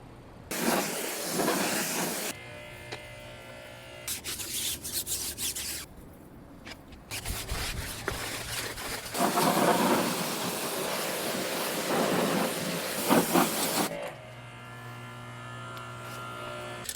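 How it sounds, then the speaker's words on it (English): A pressure washer blasts the wheels of a 1976 Triumph Spitfire, a loud close hissing spray that starts and stops in long bursts, its pitch and roughness changing as the jet moves across the metal. "now we're going to pressure wash the wheels because we're going to be painting them"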